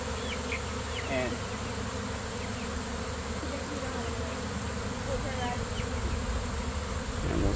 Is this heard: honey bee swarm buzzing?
yes